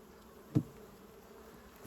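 A soft, steady hum of honeybees buzzing at a hive, with one brief louder thump partway through, quiet and continuous throughout.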